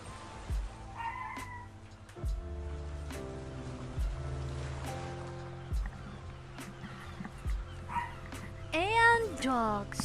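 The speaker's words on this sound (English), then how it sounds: "And dogs. I got dogs too." Dogs in a room give short yips and a whimpering whine, with a voice talking throughout and the animal sounds rising near the end.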